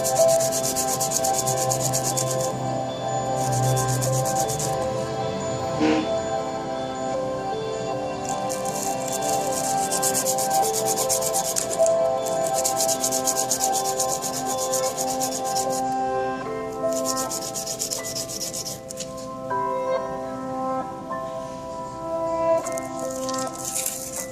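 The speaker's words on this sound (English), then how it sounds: "I'll just shave it down by pushing one of the tines that is higher than the other to the sandpaper and grind it down" A fountain pen nib tine is ground down against sandpaper, in repeated short bursts of dry scratchy rubbing with brief pauses between strokes, close and fairly quiet.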